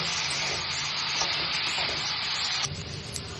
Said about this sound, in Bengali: ভালো করে নাড়াবো, আলুটাকে ভালো করে ভাজবো।